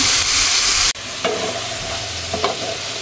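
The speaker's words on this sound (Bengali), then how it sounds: "এখন এর সেটা মিশিয়ে নিব ভালো করে কষিয়ে নিব" Mixed vegetables and spices are stir-fried in a pan, a loud hiss that drops suddenly, then a lower sizzle with a few sharp scrapes of a spatula, no voices.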